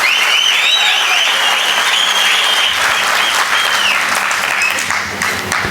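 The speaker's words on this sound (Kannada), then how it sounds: "ನೀವು ಚಪ್ಪಾಳೆ ಹೊಡಿತೀರ ಅಂತ ನಾನು ಹೇಳಲಿಲ್ಲ" Sustained applause from an audience at a tribute event honouring the actor Dr. Vishnuvardhan, a dense steady clatter of many hands clapping, loud and close throughout, easing only slightly near the end.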